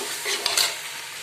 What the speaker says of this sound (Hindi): मैं यहाँ पे बना रही हूँ मिक्स वेज और यहाँ पे मेरा बन रहा है पनीर